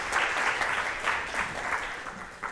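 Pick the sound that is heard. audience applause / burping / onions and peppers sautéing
audience applause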